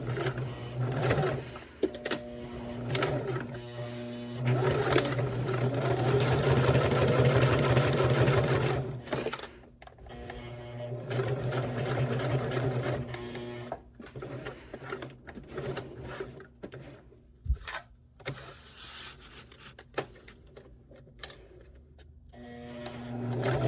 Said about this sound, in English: we're going to sew 1/8 of an inch all the way around